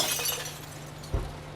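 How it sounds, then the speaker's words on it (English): Glass bottles are thrown into a glass bin at a recycling center, giving a bright shattering crash at the start followed by a lower thud of breaking glass, close and loud with no talking. "I love throwing the bottles"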